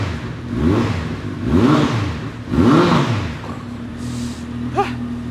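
A Honda CB1300 Super Bol d'Or SP motorcycle engine revs up and falls back three times in steady rhythm, close and strong, then settles to a lower idle with a brief blip at the end.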